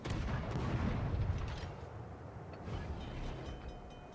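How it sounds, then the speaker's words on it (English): Secondary guns of the battleship Renown firing in a World of Warships naval battle, a dense, rumbling barrage of distant cannon booms that swells early and then fades into a softer roar. "That was the secondaries from the Renown over there."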